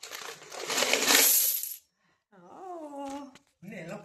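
Coins pour out of an undiyal piggy bank in a dense, loud clattering rush that lasts under two seconds, followed by people talking nearby.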